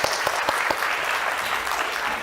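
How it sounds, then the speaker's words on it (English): A conference audience gives a burst of dense, continuous applause after a keynote speech at a 6G technology event. The clapping is loud and even, with a few sharper claps near the start, and it carries on for the whole stretch. "let's give a big, big clap to Dr."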